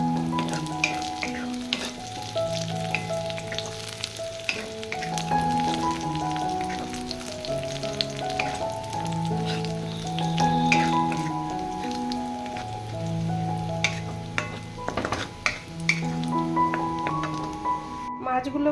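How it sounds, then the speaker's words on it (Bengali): Onions and raisins fry in a pan with a steady crackling sizzle and occasional stirring, heard under melodic background music. "তো আমার পেঁয়াজগুলো ভাজা ভাজা হয়ে গেছে, তো এর মধ্যে এখন কিশমিশ দিয়ে দেবো, কিশমিশ দিয়ে ভাজবো।"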